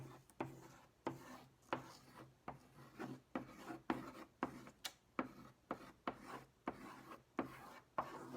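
A crayon rubs across paper in repeated back-and-forth strokes for a self-portrait drawing, making a soft, close, rhythmic scratching with evenly spaced bursts.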